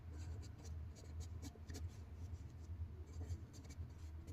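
A pen scratches across paper as a math solution is written out, soft rapid strokes and short scribbles that run on steadily, faint and close, with no talk.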